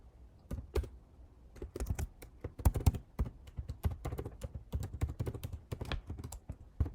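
Typing Java code on a computer keyboard, with distinct close key clicks in uneven bursts and short pauses, no talking.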